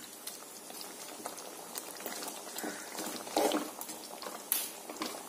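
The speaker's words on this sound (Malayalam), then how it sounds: "താറാവ് കറി കൊണ്ട് തിളച്ചുകൊണ്ടിരിക്കുന്നു." Duck curry boiling in a pot: a steady, close bubbling and popping runs throughout, with a few louder bursts of bubbles breaking the even simmer.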